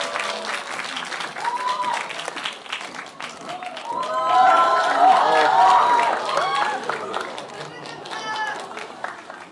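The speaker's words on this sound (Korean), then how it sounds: "박수 부탁드릴게요" Audience applause at a stage greeting for the Korean film '7 Years of Night', a dense steady wash of clapping that swells in the middle while voices talk over it throughout.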